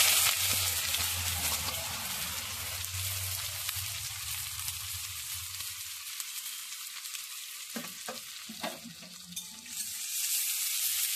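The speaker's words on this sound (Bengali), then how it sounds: "পেঁয়াজটা একটু ভেজে নেব।" Chopped onion fries in oil with whole cumin seeds, giving a steady, close sizzle throughout, with a low rumble early on and a few spatula scrapes and clinks near the end, and no talk.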